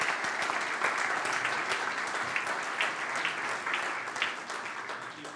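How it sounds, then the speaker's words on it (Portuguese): A ceremony audience claps steadily for the full stretch in a dense, even wash of applause that fades slightly toward the end. "Um aplauso."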